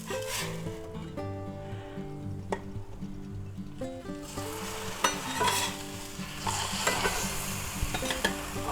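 A large grilled smoked ham, egg and cheese sandwich on rye sizzles steadily in a pan as it is flipped, with scraping and a few clinks over the fry, while faint music plays underneath.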